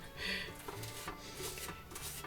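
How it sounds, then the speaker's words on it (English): A spoon mashing minced onions, quiet irregular scraping and soft knocks against a bowl or board, close up and faint, with no talking. "I'm going to smash them down with a spoon."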